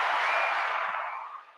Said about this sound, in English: Where's the applause button here?